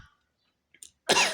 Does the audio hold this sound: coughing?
yes